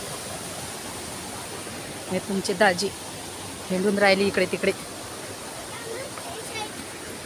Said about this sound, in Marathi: हा धबधबा आहे